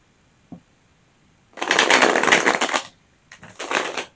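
Tarot cards shuffled by hand in two riffling bursts, a longer one of about a second and a half followed by a shorter one after a pause, close and crisp with a faint tap before them.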